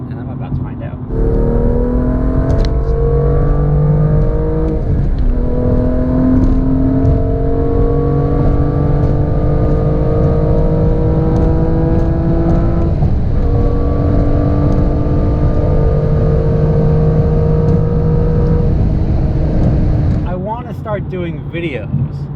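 A BMW M2 sports car engine revs hard and climbs through several gears in a row, each shift briefly dropping the pitch before it rises again, loud and close, then it settles.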